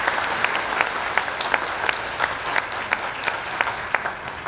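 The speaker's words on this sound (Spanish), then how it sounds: "les voy a pedir nueva vez un aplauso para nuestro querido" A university hall audience at a book presentation claps for an honoured academic, a steady, fairly loud wash of applause with sharper individual claps standing out, no talking over it.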